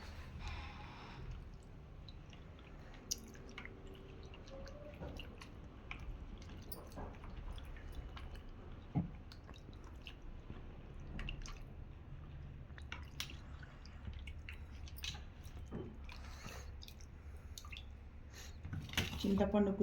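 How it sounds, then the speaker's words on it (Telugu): Tamarind is squeezed by hand into a soft pulp for fish curry, making close, wet squishing and dripping sounds in an irregular rhythm, with someone talking over it. "బాగా మెత్తగా ఇట్లా పిసుక్కొని చింతపండు బాగా మెత్తగా గుజ్జుగా చేసుకోవాలి"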